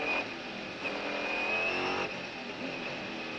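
Race cars at the 1998 24 Hours of Le Mans, engines roaring steadily and loudly at close range with a rising whine, likely braking and accelerating into the raccordement corner, no talk over it.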